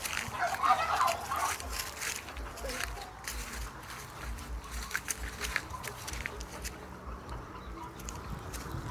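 Chickens clucking and calling in a yard amid steady outdoor background noise, with occasional close rustling and taps.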